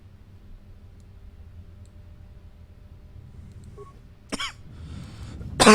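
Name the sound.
coughing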